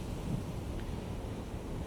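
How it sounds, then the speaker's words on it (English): An Iowa-class battleship plows through ocean waves in the naval game Cold Waters, a steady, fairly faint wash of surf and rushing water with a low rumble underneath. "Iowa-class battleship at sunrise, plowing through the waves."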